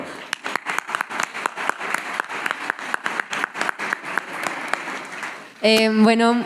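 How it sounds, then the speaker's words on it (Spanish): Audience applause after two ninth-grade students are introduced at a school author visit, sparse distinct claps close by for about five seconds before a voice begins speaking over the fading sound. "Un aplauso, por favor."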